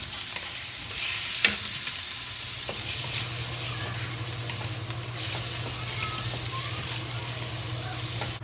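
Thin strips of pork stir-frying in oil in a wok, a steady bright sizzle with occasional scraping stirs and a low background hum, close and moderately loud.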